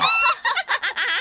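Chickens cluck in the video game Fable, a loud close burst of several quick, throaty clucks one after another.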